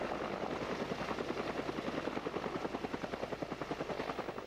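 An attack helicopter, from the era of the AH-64 Apache, thuds with fast, regular rotor blade slaps over a continuous engine roar, steady and fairly close, with no voices.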